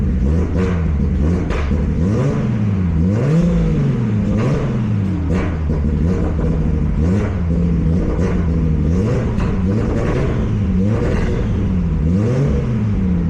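A Nissan Skyline R32 GTST engine runs just after starting. A loud, steady rumble swells and dips in repeated rev surges for several seconds, with no talking.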